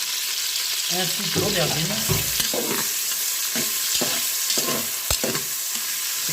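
Bell pepper and eggplant frying and being stirred in a Cookeo multicooker, with loud close sizzling and scraping stirs, while someone talks over the cooking.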